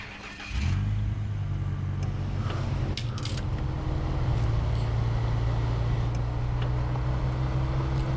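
A Chevrolet CK1500 truck in SnowRunner starts up and then drives with a steady low engine drone, heard close and alone with no talking, and a few faint clicks sit over the engine.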